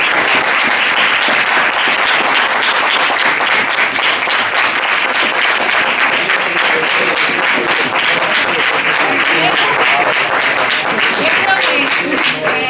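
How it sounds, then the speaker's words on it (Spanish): Long, loud, continuous applause from an audience at a theatre play introduction, thick even clapping that holds for over twelve seconds with some crowd murmur beneath. "No podemos irnos sin darle un aplauso y nuestro agradecimiento"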